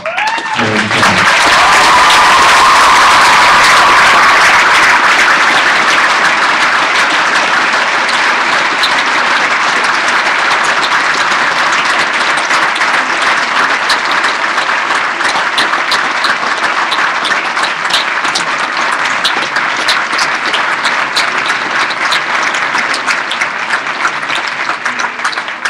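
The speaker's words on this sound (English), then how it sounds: "Graduating class, I'd like you to stand at this time with your valedictorian and applaud." A standing graduating class of 2015 applauds its valedictorian at a school graduation ceremony, loud sustained clapping from a large crowd filling the hall continuously for nearly half a minute.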